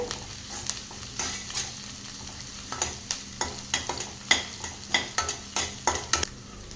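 Curry leaves, green chili and onions sizzle in a pan for a brinjal kara sukka while a utensil stirs them in a steady rhythm of scraping strokes over a constant fry hiss, with no talking.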